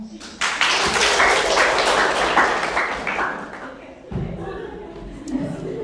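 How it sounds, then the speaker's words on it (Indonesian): Applause from a group in a classroom lesson, with clapping for a person named Ruth, a dense burst of hand claps rising sharply, holding for a few seconds, then tapering off while a voice speaks. "Tepuk tangan juga buat Ruth, tadi belum tepuk tangan."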